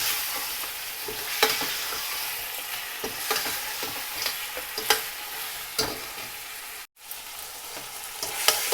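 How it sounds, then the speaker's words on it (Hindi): Mutton chops frying with ginger garlic paste in a pot, a soft steady sizzle broken by repeated scraping stirs of a spoon, close and fairly quiet, with a brief drop to silence midway. "इसको डाल के अच्छी तरह भून लेंगे।"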